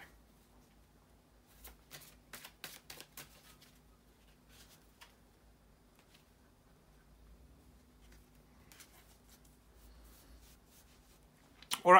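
Tarot cards are shuffled in several quick papery riffles and soft slides, close and fairly quiet, with pauses between bursts and a louder handling noise at the end.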